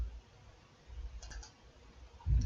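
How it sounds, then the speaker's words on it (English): A single computer mouse click on a Save button, heard as a faint, brief tick alone against a quiet background. "and I will click Save"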